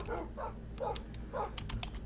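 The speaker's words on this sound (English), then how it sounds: "Let's get the dog army up." Dogs in Minecraft bark in short yips, about four quick barks spread across two seconds, with light keyboard clicking in the background.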